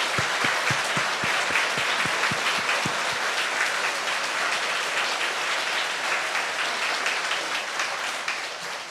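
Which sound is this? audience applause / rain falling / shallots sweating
audience applause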